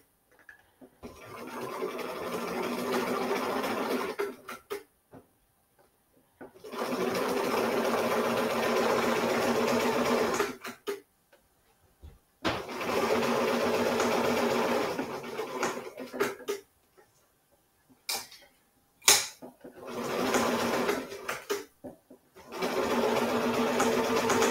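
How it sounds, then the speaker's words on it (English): Sewing machine stitching a small lavender bag near the fabric edge, running in four or five steady whirring bursts of several seconds each with short pauses between, loud and close with no talking. "we will just do a couple of stitches, then a little bit of a back stitch."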